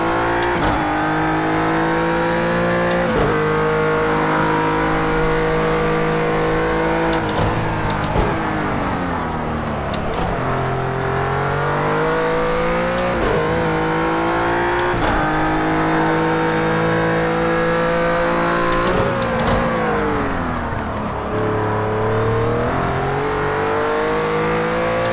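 A Renault RS.01 GT3 race car engine in the Project Cars 2 racing game at the Algarve circuit roars loud and close, climbing through repeated revving surges with sharp drops at each gear shift.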